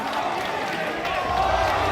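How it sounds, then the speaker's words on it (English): A crowd at the final of the 2024 Mansion Sports Hanoi Open pool tournament between Johann Chua and Ko Pin Yi cheers in a broad, steady swell that builds slightly near the end. "that's the cheer from the crowd"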